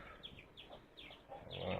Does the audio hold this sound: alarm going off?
no